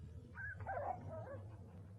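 A cartoon dog gives faint, soft whimpering yips and brief barks over a low background hum for about two seconds. No talk is heard.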